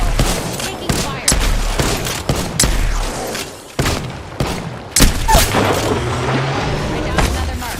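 Heavy gunfire and explosive booms from a Call of Duty Modern Warfare II match, with repeated loud bursts and blasts cutting across a dense, busy battle soundscape, while a synthetic in-game voice speaks intermittently.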